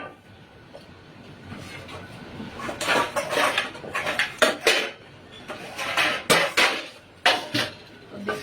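Potatoes and onions are chopped with a knife on a board in a home kitchen. Light, irregular taps and clacks come in quick bursts at low to moderate volume, with no speech.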